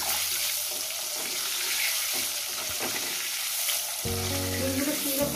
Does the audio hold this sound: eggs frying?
yes